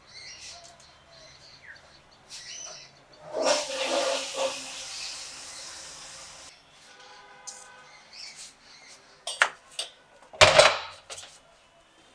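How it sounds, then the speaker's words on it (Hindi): A toilet flushes nearby with a rushing gush of water lasting a few seconds, followed by quieter trickling, a chirping bird and some sharp knocks and clatters. "फ्लैश चलाओ।"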